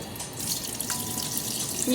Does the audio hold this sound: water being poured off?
yes